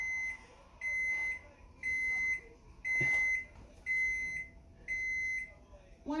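A microwave oven sounds a series of six evenly spaced electronic beeps in a kitchen, each about half a second long with a short gap between, with a brief faint thump and light room noise in between.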